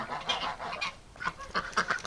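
A goose honks among Muscovy ducks, a burst of several loud, harsh calls in quick succession close by, with a brief pause midway.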